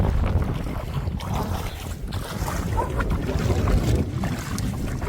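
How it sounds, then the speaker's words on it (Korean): Wind gusts blow hard across an outdoor spot near water, a continuous rough buffeting roar with uneven surges that stays fairly steady throughout. "바람 소리."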